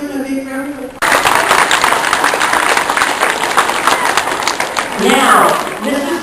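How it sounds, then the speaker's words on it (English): An audience of students and teachers bursts into loud applause after a thank-you, dense clapping that starts abruptly and carries on steadily, with a swell of cheering near the end; a voice speaks briefly just before it begins. "Can you give them a big round of applause?"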